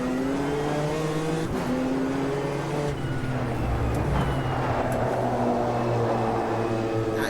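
Race car engines in the Automobilista 2 racing sim, with a BMW among the cars: a sustained, loud engine drone whose pitch climbs and drops through gear changes, with a second engine layered in close by.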